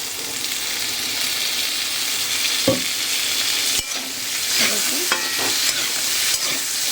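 Radish pieces fry in a little oil with panch phoron and green chilli, a close, even sizzle broken by a few sharp spatula scrapes and knocks against the pan, with no voices.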